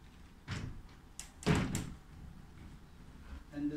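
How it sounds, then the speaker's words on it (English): Doors of a beach suite at a Maldives resort are shut, giving a few quiet, solid thunks: one, then a louder pair close together, with no one speaking. "just close the doors."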